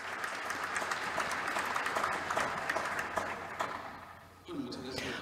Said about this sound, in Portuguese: Vamos dar um aplauso a eles.